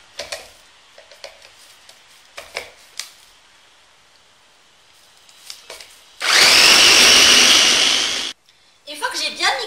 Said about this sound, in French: je vais mixer le tout jusqu'à obtention d'un mélange homogène